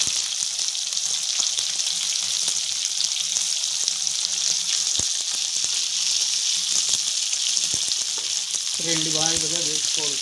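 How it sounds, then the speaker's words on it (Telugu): Peeled flat beans fry in hot oil with a loud, constant crackling sizzle and scattered pops that run the whole time. A voice speaks briefly near the end. "ఆయిల్ హీట్ అయ్యాక దీంతో మనము ఒలిచి పెట్టుకున్న చిక్కుడుకాయలు అనేది వేసుకోవాలి ఫ్రెండ్స్."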